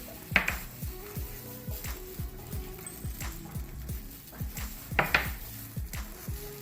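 Ricotta, cream cheese, egg, Parmesan and parsley being stirred together in a bowl for lasagna filling, a quick steady run of spoon-on-bowl clinks and scrapes, close and moderate, with a couple of louder knocks.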